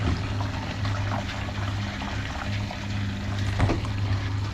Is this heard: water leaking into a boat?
yes